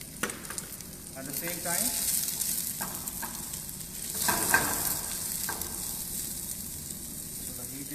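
Garlic and onions sizzle steadily in a pan over low heat, with occasional scraping stirs. Someone speaks briefly over the frying.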